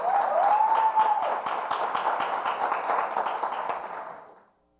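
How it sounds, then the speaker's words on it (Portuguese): Audience applause at a municipal civic event for participatory councillors, a dense even patter of clapping that holds steady for about four seconds before fading out. "Uma salva de palmas."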